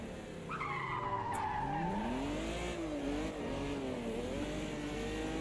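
Race car tyres skidding and squealing on cold rubber in the Automobilista 2 racing game, a continuous loud whining screech with gliding pitch over steady engine drone for the whole stretch.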